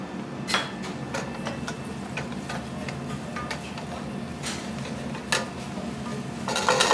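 Finely chopped garlic and shallot gently sweating in olive oil in a pan, a soft steady sizzle under light clinks and taps of a utensil against the pan, close by with no talk.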